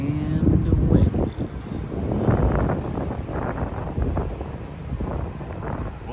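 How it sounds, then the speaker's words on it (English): Steady, blustery wind roars across the microphone on a cold evening in Manhattan's Upper West Side, gusting in low rumbling surges throughout with no one speaking. "It is cold and windy."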